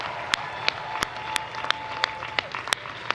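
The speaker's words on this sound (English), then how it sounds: "Let's give them a huge, huge round of applause again." Graduates of the Georgia State University College of Law Class of 2022 receive applause at their spring commencement: a steady, moderate wash of audience clapping, with a few sharp, closer claps standing out at regular intervals.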